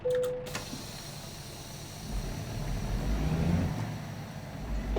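Truck ignition and engine start in American Truck Simulator, heading off-road: a short electronic chime, then a low engine rumble that builds and holds steady at moderate, close level.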